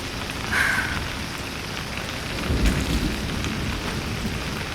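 Steady rain pours down with a low rumble of thunder rolling through midway, a continuous wet hiss filling the scene with no voices heard.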